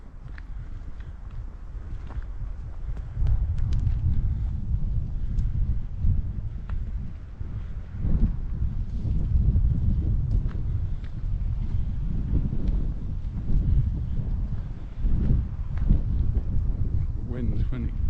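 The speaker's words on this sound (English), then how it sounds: "the wind is really quite strong and gusting" Strong gusting wind in an exposed spot on a Mallorca estate buffets the microphone as a steady low roar that swells and drops in gusts, heard close under a voice talking throughout.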